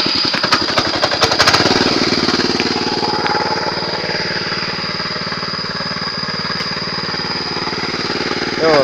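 A mini tractor engine revs steadily and loudly throughout while a child drives it, with a rough, throbbing mechanical drone and some clatter early on; people talk faintly over the engine.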